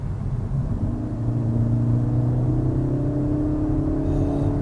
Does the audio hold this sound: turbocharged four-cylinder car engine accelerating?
yes